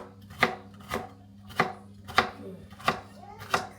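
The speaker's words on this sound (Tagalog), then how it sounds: "Hindi rin manipis yung yung hati ko sa ampalaya" Bitter gourd (ampalaya) being chopped on a board, six crisp, evenly spaced knife strikes about half a second apart, close and clear with quiet pauses between.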